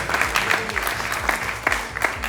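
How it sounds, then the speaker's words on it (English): A crowd at a gaming LAN event applauds, with dense, steady clapping and a few sharper claps standing out. "Everyone give a round of applause for these top 4 players who have made their way to the event."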